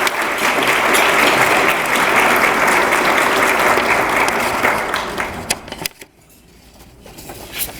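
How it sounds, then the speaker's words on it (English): An audience at a diversity leadership awards ceremony in San Antonio claps loudly and steadily for several seconds, then the applause thins out and fades to quiet room tone with a few lingering claps. "Let's give him a round of applause."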